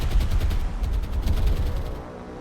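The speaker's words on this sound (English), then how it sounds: "Secondary explosions happening." Naval bombs striking ships in a Mediterranean World War II naval combat video game, a dense run of booming blasts and rattling secondary explosions rolling one after another, loud and continuous with no talk.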